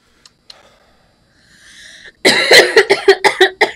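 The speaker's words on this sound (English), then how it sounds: "Sorry if I'm coughing." A burst of repeated harsh coughs from someone getting over allergies, close and loud, about seven in quick succession after a few soft breaths and rustles.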